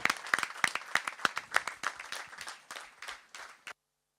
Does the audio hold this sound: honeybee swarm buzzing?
no